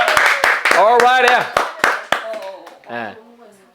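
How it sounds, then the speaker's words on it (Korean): A few people clap at a Korean young adults' Bible study meeting, sharp hand claps scattered among close talking voices, brief and somewhat irregular. "박수"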